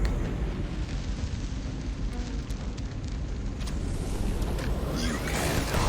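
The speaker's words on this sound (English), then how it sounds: "Big boom. That's the gas tank." Gas tank exploding in the video game Starfield: a loud, sustained low rumbling blast that fills the whole clip, with crackling debris noise building toward the end and no talk.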